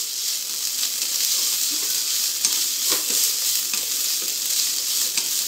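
Steady crackling sizzle of coriander and mint frying in a hot pan, with occasional soft scraping from stirring, close and continuous.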